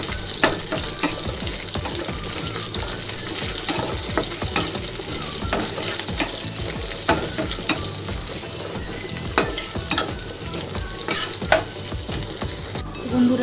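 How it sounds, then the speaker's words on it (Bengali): Five slit green chillies fry in hot oil with constant stirring, a busy crackling sizzle and scraping throughout, with no voices. "এগুলো ভালো করে একটু তেলে ভেজে নেব"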